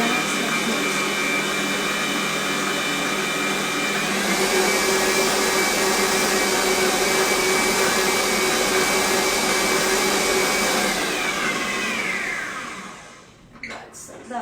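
An electric mixer whirs loudly and steadily while blending a chocolate dessert cream base for a marquesa de chocolate, a constant near drone that shifts pitch slightly midway before cutting off, followed by a few clinks.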